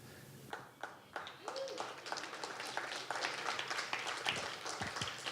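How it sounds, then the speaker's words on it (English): An audience claps and cheers together after someone beats Ganon in a game, the applause steady and fairly close with scattered individual claps and a few voices calling out over it. "This clapping for me beating Ganon was more fulfilling than beating him."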